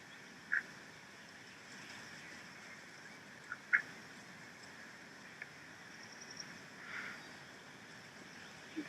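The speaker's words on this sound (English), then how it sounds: "there is a video from Matt, and it is of a duck chasing a dog." A duck quacks in short scattered bursts while chasing a dog, a few sharp calls over quiet background hiss.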